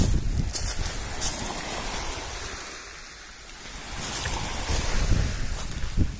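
Gusty wind sweeps a beach in Crikvenica, Croatia, buffeting the microphone in loud roaring waves that ease off midway and then build again, with a surf-like wash underneath.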